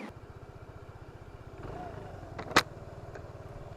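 A Kymco Racing King 180 ABS scooter is ridden on ordinary roads, its engine a steady low putter with a faint rushing background and a brief sharp click partway through.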